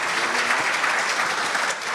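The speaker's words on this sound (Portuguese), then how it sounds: "Uma salva de palmas para o Caí." An audience at a regional mayors' dinner debate claps together in dense, even applause that holds steady and fades slightly at the end.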